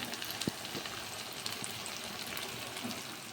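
Chicken dropped into a frying pan with lightly fried onions, sizzling steadily with soft crackles and a few small pops, close and moderately quiet with no talking.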